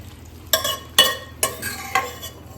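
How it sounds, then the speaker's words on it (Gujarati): Ragda, a peas curry, being stirred in a pan on the stove: four distinct scraping sweeps of a spoon at a steady rhythm, close and moderately loud, with a light sizzle underneath and no talking. "સારી રીતે મિક્સ કરી લઈશું."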